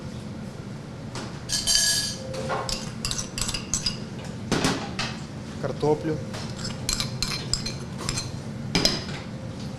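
Metal utensils clink and scrape against a bowl in irregular bursts as vegetables, including carrot, are mixed and tossed, with a brief spoken word partway through.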